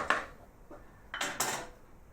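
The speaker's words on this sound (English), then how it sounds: "I'm just going to use a ladle for this." A ladle scraping and clinking against a pan while serving Thai prawn curry, a few close, quiet metallic taps and scrapes spread over about two seconds, no voice.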